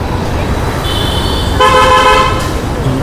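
Road traffic on a busy street near Tirumala, Tirupati, with a steady vehicle rumble and repeated car horns honking close by, the loudest horn blasts in the second half.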